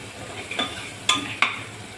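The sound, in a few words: shahjira (caraway) seeds added to hot pan for khichdi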